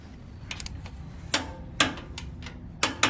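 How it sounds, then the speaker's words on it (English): A torque wrench tightens a lower ball joint castle nut to 117 foot-pounds on a first-generation Toyota Tundra front suspension, giving a few sharp, separate clicks with quiet pauses between them. "Now I'm gonna get on here with a torque wrench, and we're gonna torque it to 117 foot-pounds."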